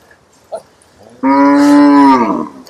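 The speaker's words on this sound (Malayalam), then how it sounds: "പശുക്കളെ മേയ്ക്കാൻ വേണ്ടി ഗ്രാമീണർ പുറത്തോട്ട് കൊണ്ടുപോകുന്ന" Cows being led out to graze by villagers in Chitkul, a Himalayan border village, let out one long, loud, close moo after a brief faint stir, then fall quiet.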